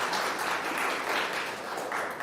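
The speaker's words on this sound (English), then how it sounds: "You can clap for that too" Congregation applause in a church service, a steady, dense wash of many hands clapping at moderate distance, sustained evenly throughout without speech.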